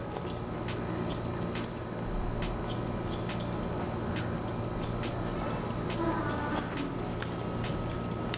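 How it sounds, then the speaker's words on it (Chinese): Scissors snipping hair during a men's buzz-cut haircut, repeated light crisp snips throughout over a steady background hum, with no talking. "然后把多余的长度做修剪"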